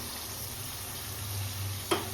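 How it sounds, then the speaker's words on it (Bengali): Chicken sautés with ginger-garlic paste and butter masala in a pan, giving a steady close sizzle and frying hiss, with a brief scrape or clink of a stirring utensil near the end. "এই যে আদা রসুন দিয়ে এখানে কষানো চলছে"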